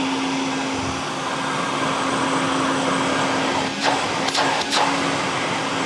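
A Prolux CTX water vacuum cleaner runs steadily with strong suction, a loud constant motor whine with a few brief airy surges near the end.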